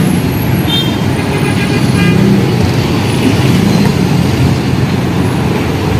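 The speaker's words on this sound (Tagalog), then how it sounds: "Ang dami pong sasakyan." Dense traffic on Marcos Highway makes a loud, steady roar of cars, buses and trucks close by, with a few short horn toots poking through.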